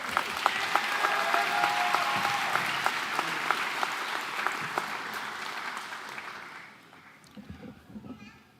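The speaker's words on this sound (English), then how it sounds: "I want to give you a big round of applause for that." Applause from the crowd at the 2024 KILP graduation ceremony, steady and moderately loud, with a few sharp individual claps standing out, tapering off near the end as faint voices come through.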